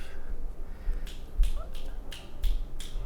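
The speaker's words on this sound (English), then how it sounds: "My wife is clapping, snapping." A wife's sharp finger snaps and claps ring out one at a time at a slow, uneven rhythm, about five distinct cracks, fairly close against a quiet background.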